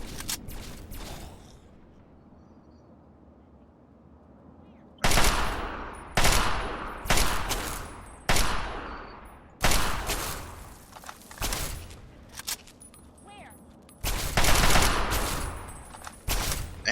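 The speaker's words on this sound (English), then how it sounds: "Nice shooting, Lucy." Gunfire in the video game Fallout 3: a quiet stretch, then a rapid series of loud, sharp shots and bursts in irregular rhythm, close and dominant, with brief gaps between volleys.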